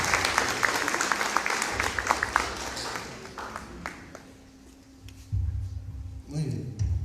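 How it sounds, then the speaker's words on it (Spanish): A seated audience at a talk about fear applauds in a loud, dense burst that thins out after about four seconds, and a speaker's voice then comes in. "dense el aplauso"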